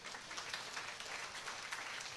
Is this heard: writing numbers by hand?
no